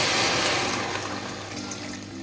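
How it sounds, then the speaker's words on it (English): Water pours steadily into a pot of goat meat and cow legs for bitterleaf soup, with a loud, rushing splash that gradually softens as it fills. "Adding in some water."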